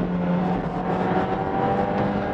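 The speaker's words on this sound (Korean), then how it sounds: "이렇게 RPM을 높인 상태에서 가속을 하잖아요." A Volkswagen Jetta facelift engine revs hard at high RPM while accelerating, a loud sustained roar with a strained, buzzing whine that holds steady.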